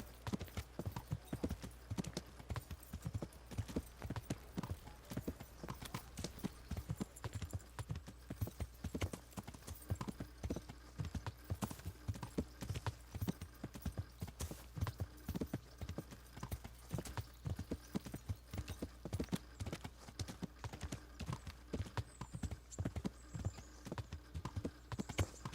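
Steady rhythmic clip-clop of a ridden horse's hooves in the Kingdom Come Deliverance video game, continuous and fairly close throughout, with faint background ambience.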